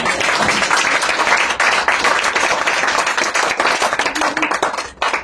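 A church congregation claps loudly and continuously in acclaim of the Lord, dense overlapping hand claps filling the space for several seconds with faint voices mixed in.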